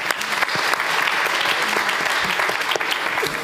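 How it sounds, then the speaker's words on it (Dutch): An audience claps loudly and continuously for a contest winner at a science café event, a dense, close burst of applause with no voices over it. "Mag ik een hartelijk applaus voor Chris"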